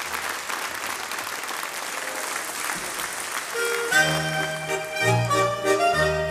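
Sustained, dense clapping from an audience cheering a Ländler quintet at a Swiss folk music Stubete, steady for several seconds before tuneful instrumental music swells in over the fading applause.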